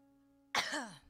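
A member of a live music audience gives one close, harsh cough or throat-clearing that fades into a brief tail, heard alone over a low steady hum.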